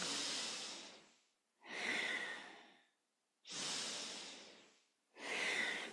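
Deep breaths during kundalini yoga movement, two slow rounds of inhale and exhale with long airy rushes and short silent gaps, close and fairly soft.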